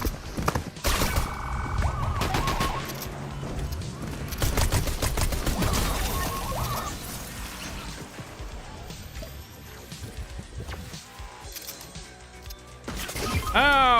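Video-game gunfire and explosions from a Star Trek themed shooter, with bursts of shots and crashes scattered across a busy mix of game sounds, music-like tones and a voice speaking over parts of it.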